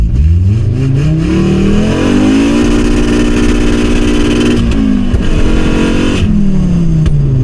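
A 5-cylinder-swapped Mk2 VW GTI revs hard toward 7,500 RPM, with a loud, close engine note that climbs, holds high, then drops away, alone without any voices.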